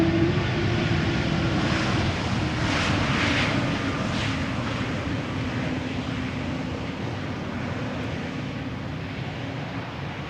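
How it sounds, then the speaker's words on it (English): Embraer 175 jet arriving at Amsterdam Schiphol, a steady broadband engine roar holding loud and even throughout, with a faint rising whine partway through. "Embraer 175 arriving from Norwich in the foreground."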